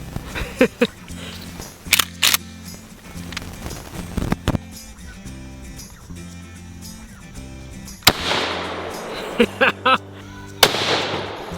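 A shotgun fired outdoors: a series of sharp, loud single blasts spaced a few seconds apart, with background music underneath.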